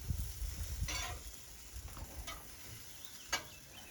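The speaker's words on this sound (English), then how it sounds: "Tomatoes are roasting beautiful here. Onion on that side." Roma tomatoes and onion roast on a griddle, a soft, fairly quiet sizzle with scattered crackles and a couple of sharp ticks, plus some low rumbling near the start.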